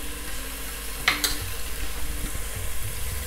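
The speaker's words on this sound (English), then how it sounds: "the onions are browning nicely" Onions browning in a pan for an egg bhuna curry, a close, even sizzle with a sharp utensil clink and scraping stirs partway through, no one speaking.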